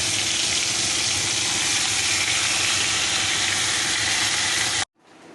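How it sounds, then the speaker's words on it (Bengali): Fish sizzling steadily in hot oil in a wok, a loud continuous frying hiss that cuts off abruptly near the end, leaving a faint lingering sizzle. "এরপরে মাছগুলো আমি প্রথমে ভেজে নেব।"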